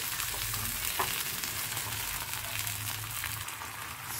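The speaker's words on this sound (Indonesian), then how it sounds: "Oseng-oseng lagi." Chayote with tomato, chili and a splash of water stir-fried in a pan, a steady close sizzle with scraping stirring sounds throughout and no talk.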